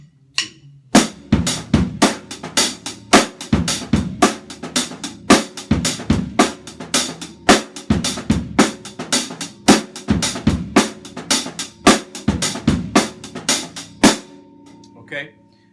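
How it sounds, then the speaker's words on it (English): Drum kit playing a basic linear African groove, a steady, loud pattern of crisp snare and hi-hat hits over kick drum, solo and up close for about fourteen seconds before fading. "let's just start off with the basic thing, the basic groove, and it goes something like this"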